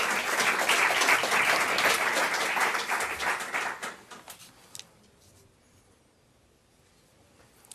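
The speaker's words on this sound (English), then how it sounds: "we can give her a round of applause as well" A crowd at a high school summer graduation ceremony applauds loudly, and the clapping fades away after about four seconds into a quiet room with a few faint knocks.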